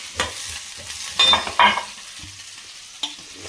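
Green chillies and onions sautéing in a pan for vegetable kurma, with bursts of stirring and sizzle rising and fading over a quiet frying hiss.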